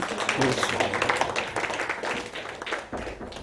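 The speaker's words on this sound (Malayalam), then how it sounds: "ഓക്കെ, കൈയടിച്ച് കർത്താവ് നന്ദി പറയാം" Congregation at a Malayalam prayer ministry service clapping hands together in thanksgiving, a dense continuous patter of many hands filling the room, with voices mixed in underneath.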